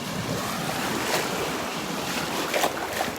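Ocean waves break on a Gulf beach at Delnor-Wiggins in a steady, loud wash of surf, with wind buffeting the microphone and a few swells rising above the roar.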